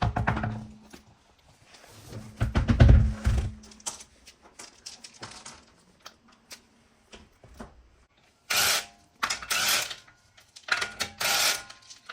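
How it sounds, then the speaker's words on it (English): Wheel and tire being removed from a Nissan Qashqai during a front brake job, heard as scattered metallic clunks and thunks, a cluster of knocks early on, then several loud bursts of power-tool whirring near the end. "let's remove the wheel now. And tire."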